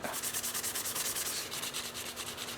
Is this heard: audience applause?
no